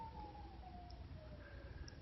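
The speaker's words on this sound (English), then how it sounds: "every time you hear a siren" A siren wails in the distance, its pitch sliding slowly down and up over a steady low rumble of traffic noise.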